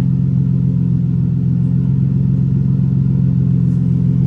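A Nissan engine holds a steady, loud high-rev drone at 6,500 RPM, a continuous mechanical roar with no pauses and no speech.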